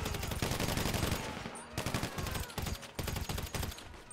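Rapid, continuous gunfire crackles in GTA Online, loud repeated bursts of shots rattling in close succession with brief gaps, no talking over them.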